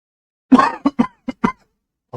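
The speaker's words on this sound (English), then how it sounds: "oh god, I'm coughing like a madman." A person coughs hard at close range in a quiet room: one heavy cough, then a quick run of four shorter barking coughs and a final softer one.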